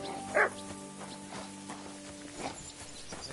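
A dog gives a single short, sharp bark near the start, then falls quiet over a steady humming background with faint shuffling steps.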